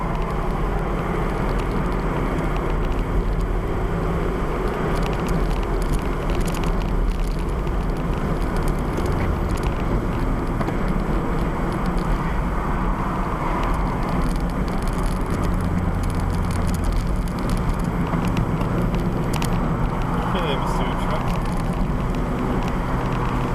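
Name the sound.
2001 Toyota MR2 Spyder driving through a corner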